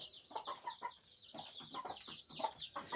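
Free-range chickens clucking in their pen, a steady run of close, soft clucks and chirps over a higher whistling background, with no talk.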